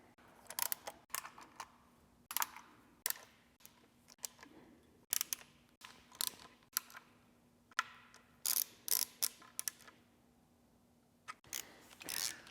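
A ratchet snugs up front cover bolts on a Duramax diesel engine build, giving bursts of rapid, close clicking separated by short pauses, with no talking.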